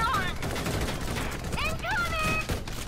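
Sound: gunfire in the video game Valkyria Chronicles 4

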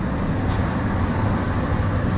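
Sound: Mahanagar Express train running from Dhaka to Chittagong

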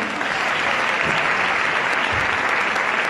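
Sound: audience applause

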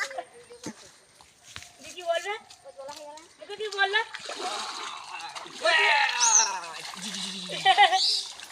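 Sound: splashing water while bathing in a village pond

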